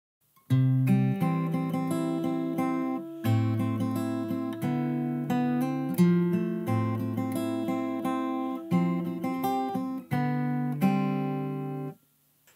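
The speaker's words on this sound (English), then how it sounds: "Then moving on to the third of four parts, the pre-chorus." Fingerstyle acoustic guitar plays the pre-chorus of a song in an easy arrangement, steady plucked arpeggios with bass notes moving under them across several chord changes, clean and close, ending in a brief silence.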